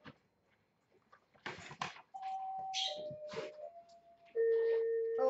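A household doorbell rings after something is accidentally set down on its button, giving sustained electronic chime tones that step from one pitch to another, fairly loud and close in a quiet room.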